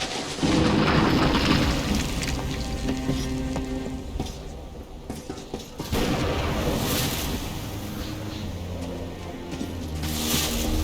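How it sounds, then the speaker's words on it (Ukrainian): Rain falling in the post-apocalyptic shooter Metro Last Light, a steady, dense wash of hiss with heavy low rumbles rolling underneath, loud and continuous with no voices. "Дощ!"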